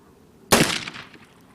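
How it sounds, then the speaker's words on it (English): A single sharp black powder report from an 1858 Remington .36 caliber revolver at a shooting range cracks out loudly and then rings away over about a second. "Alright, I'm going to get these caps put on here and we'll shoot another 6 rounds."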